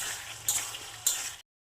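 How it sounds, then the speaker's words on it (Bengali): Spice paste with garlic, salt, turmeric and coriander powder being stirred and sautéed in a pan, with a soft steady sizzle and two brief louder scrape-and-stir bursts, close up, with no voice. "সব কিছুকে ভালোভাবে নাড়িয়ে চাড়িয়ে বেশ কিছুক্ষণ ধরে কষাতে"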